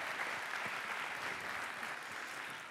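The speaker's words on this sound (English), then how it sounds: "Let's give them a round of applause." Audience applause at a tech conference talk, a steady wash of clapping that holds through the whole stretch and tails off slightly at the end, fairly distant with no voices over it.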